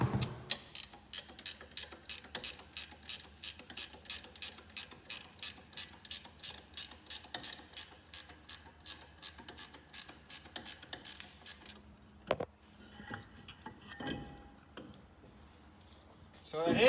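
A ratchet wrench clicks in a fast, even rhythm while a brake rotor comes off a wrecked Dodge Charger Hellcat, then a few heavier metallic clunks follow.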